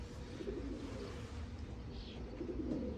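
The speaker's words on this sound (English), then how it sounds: "Belgian birds from Bro Albert" Belgian racing pigeons coo softly and faintly in a quiet loft, a few low, throaty murmurs over a short stretch with no talking.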